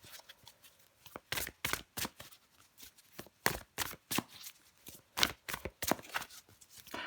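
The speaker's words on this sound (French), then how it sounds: "je prends encore une carte ou deux pour vous les Sagittaires" A tarot deck is shuffled and cards are drawn up close in a quiet room, a run of crisp papery riffles and soft slaps that comes in uneven bursts with brief pauses and no speech.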